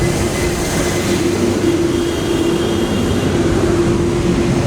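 An MRT train at an elevated station gives a continuous loud rumble with a steady humming tone held through the whole stretch and no clear change in level.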